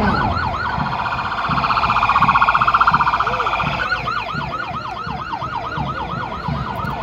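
A Federal Police GAP vehicle, a Ford, approaches in a motorized Independence Day parade on Fortaleza's Beira Mar avenue, its wailing siren cycling loudly and steadily throughout, with a low engine rumble beneath and some crowd and announcer noise around it.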